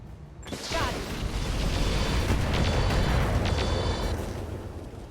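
Weapon fire hitting a Vedette in the RogueTech game: a sharp blast followed by a sustained roaring explosion rumble with mechanical clatter. It sounds loud and close.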